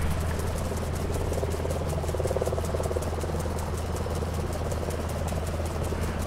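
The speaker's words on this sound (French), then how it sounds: "C'est effectivement les tracteurs qui font tourner toutes les pompes qu'on a besoin pour arroser" Tractor engines driving irrigation pumps in a vineyard drone steadily in the background, a continuous low mechanical rumble with a fast rhythmic pulsing, no voices.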